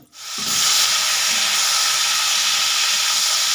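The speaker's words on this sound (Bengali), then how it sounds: "আলুগুলোকে লাল লাল করে ভেজে নেব" Potatoes hitting hot oil with cumin and bay leaf for a fish curry, erupting after a brief quiet into a loud, close, continuous hissing sizzle that holds steady to the end, no voices.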